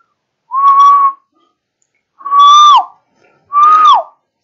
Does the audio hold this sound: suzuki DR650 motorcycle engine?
no